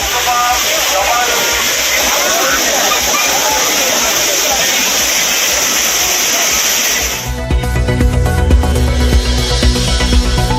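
Courtallam waterfalls pour in a loud, steady roar of rushing water. A busier, more broken wash of sound takes over near the end.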